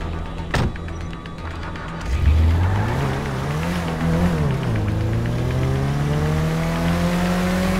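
Engine of a car in the video game GTA 5 revs up and climbs through gears while driving, loud and steady after a brief quiet start, with rising and falling pitch sweeps.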